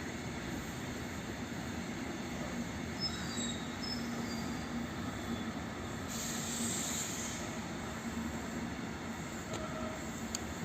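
A long train pulled by two locomotives rolls through Warszawa Gdańska station, a steady broadband rumble of wheels and cars with a brief high squeal near the middle, continuous and fairly close.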